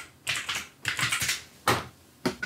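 Bursts of close, crisp keystrokes on a computer keyboard, typed in quick clusters separated by short pauses, fairly loud with no talking.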